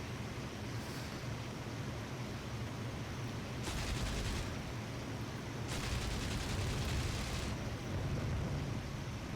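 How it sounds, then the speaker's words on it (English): Anti-aircraft fire bursts at a Mosquito bomber caught in searchlights in IL-2 Great Battles, heard as a constant low engine drone with two brief crackling bursts of gunfire mid-way, dense and moderately loud, no voices. "The aircraft fire coming straight at us."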